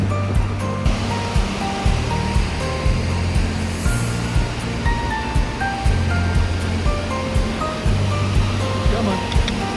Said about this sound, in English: It's impressive, lovely waterfall.